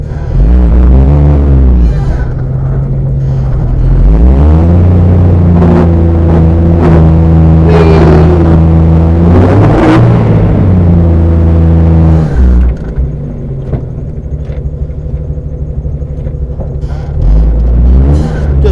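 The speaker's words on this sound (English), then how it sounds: "I think I'm doing donuts at a Jeep Wrangler" Jeep Wrangler YJ in four-high doing donuts in snow, its engine revving loud and close, rising and falling in repeated surges with a brief easing near the end before climbing again.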